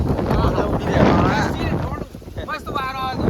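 Strong storm wind buffets the microphone in loud, rushing gusts that rise and fall, while people talk and call out over the roar.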